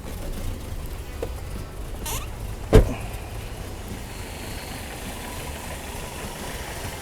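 A 1982 Mercedes W123 230E engine idles steadily just after a cold start, with a low continuous hum and one brief sharp click partway through.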